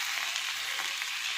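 Gime greens go into a hot frying pan with a brief, even hiss of frying across the whole short moment.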